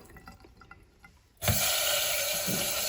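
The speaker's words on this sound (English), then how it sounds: "It looks like it sprays really good. And all of our water is draining right down there into our sink." A kitchen glass rinser starts with a sudden whoosh, spraying water hard into a sink after some faint clinks and drips, then holding a steady loud hiss of spray.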